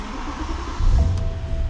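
A manual BMW E90 M3 engine is started from inside the car. There is a short, close mechanical whir, then a deeper rumble swells up as it catches.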